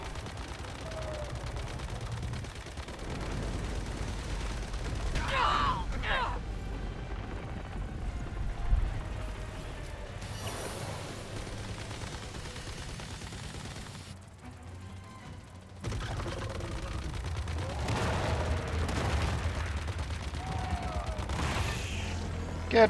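Gunfire from the survival shooter Once Human crackles in repeated bursts against a dense, rumbling background, with occasional louder shots and a steady din throughout.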